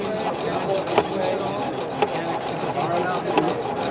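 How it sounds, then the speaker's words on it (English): Rhythmic scrubbing of a knife blade on a 200 grit stone in a Wicked Edge sharpener, a close, steady rasping back-and-forth with periodic faint clicks; no voice heard. "So once I start sharpening, I'm just going to use the 200 grit now."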